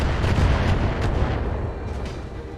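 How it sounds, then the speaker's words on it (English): Missiles launch and detonate in the BattleTech mech combat game, a dense run of loud, rumbling booms and blasts layered over one another, with no talk. "More missiles."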